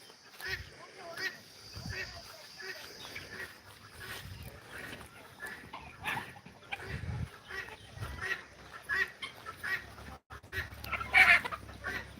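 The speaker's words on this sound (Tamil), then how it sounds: "நம்ம கோழிகளுக்கெல்லாம் தீவனம் போட்டிருக்கோம் பாருங்கள்" Native country chickens cluck steadily while eating evening feed on a farm, a busy overlapping flock close by with scattered louder calls throughout.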